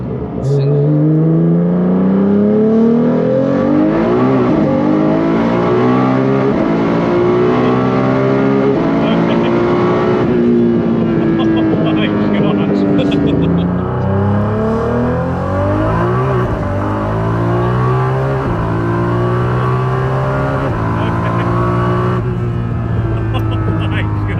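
A 1500 HP Nissan GT-R making a drag run, its engine roaring loud and close as it climbs through the gears in long rising sweeps with brief shift breaks, held at full throttle for the whole stretch.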